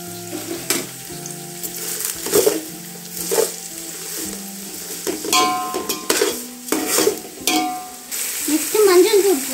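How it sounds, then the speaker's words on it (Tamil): Onions sauté in a hot pan for nattu kozhi biriyani, a loud close sizzle broken by repeated scraping and clinking stirs of a spoon against the pan. "ஆனியன் வதக்கிறதுக்காக கொஞ்சோண்டு உப்பு போடுங்க."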